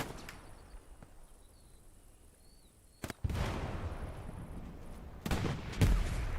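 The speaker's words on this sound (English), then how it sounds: "Floppa shooting some mines in the trench line, but does get taken out." Gunfire in a trench line in Hell Let Loose at Kursk as mines get shot: quiet ambience with a few faint pops, then sharp close bursts of shots and loud blasts in the latter half.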